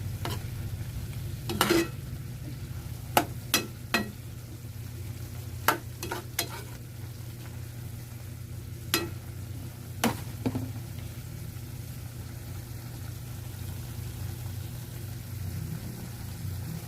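Adobong sitaw with pork being stirred in a frying pan, scattered sharp scrapes and clinks of the utensil over a steady low sizzle and hum, close but fairly quiet.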